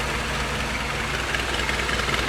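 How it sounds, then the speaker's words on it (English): A car engine idles steadily with an exhaust leak somewhere near the EGR valve or under the intake, giving a continuous low rumble with faint ticking, close up and alone. "So my only problem is that exhaust leak."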